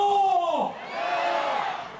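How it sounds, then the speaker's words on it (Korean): Crowd of about three thousand marathon runners at a start line in Jeonju, shouting and cheering together in a loud burst that fades and swells again as they set off. "통일과 평화를 외치며 마라토너들이 힘차게 출발선을 뛰쳐나갑니다"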